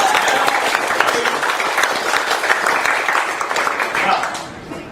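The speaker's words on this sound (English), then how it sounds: "would you mind giving me another round of applause?" Audience applause at a financial services seminar, dense continuous clapping from a crowd that stays loud and even before tapering slightly at the end, with a voice faintly mixed in.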